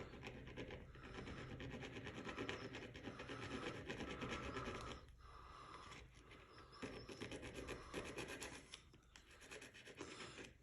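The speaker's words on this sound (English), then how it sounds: "take a small file, and we'll just get rid of the burrs" A small hand file rasps burrs off a watch dial in quick repeated back-and-forth strokes, close and crisp, with brief pauses between runs.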